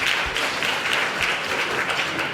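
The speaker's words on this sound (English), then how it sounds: "Another round of applause." Congress audience at an annual general meeting giving a round of applause, dense continuous clapping from a full room, fairly loud and steady for the whole stretch without speech.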